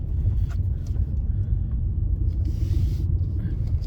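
A car drives slowly into a car park to park, its low engine rumble steady and heard from inside, with a few faint clicks over it.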